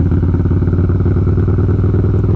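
A Harley Davidson 131 motorcycle with a Two Brothers Racing exhaust rumbles loud and close in a deep, steady, throbbing run, heard alone with no talk.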